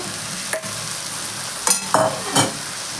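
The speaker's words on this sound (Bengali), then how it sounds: "কাঁচা লঙ্কাটা দিয়ে দিচ্ছি ভাজা আলুটা দিয়ে দিচ্ছি" Green chillies and fried potatoes are stirred into a frying vegetarian cabbage curry, with a steady close sizzle broken by several scraping spatula strokes in the pan and no talk.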